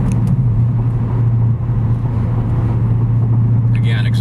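Mustang GT fitted with an MRT Interceptor cat-back performance exhaust cruising at about 60 mph, giving a steady low exhaust drone blended with road and tire noise, while someone talks over it.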